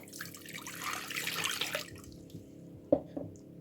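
Warm water is poured for crumpet batter, a steady splashing stream for about two seconds, followed by a couple of soft drips and knocks.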